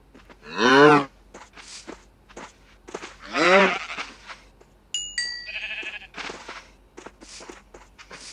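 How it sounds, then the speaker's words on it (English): A baby cow in Minecraft PE lets out two drawn-out moos a few seconds apart, clear and close, with short blocky game sound effects scattered between them. "Baby cow."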